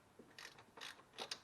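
Ratchet wrench driving a 24 mm deep socket on a short extension, giving a few faint, separate clicking bursts at close range with no talk.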